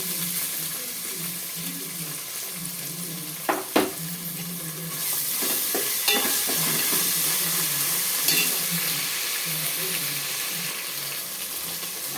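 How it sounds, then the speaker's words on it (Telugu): Onions and two spoons of ginger-garlic paste fry in hot oil, giving a steady close sizzle with a few sharp clinks and scrapes of a stirring spoon against the pan, and no talking. "ఇప్పుడు నేను ఒక రెండు స్పూన్ల అల్లం వెల్లుల్లి పేస్ట్ అయితే వేస్తున్నాను"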